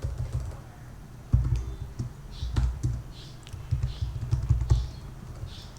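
Keys clatter on a computer keyboard in irregular bursts of soft, close clicks with short pauses, steady low hum underneath and no talk.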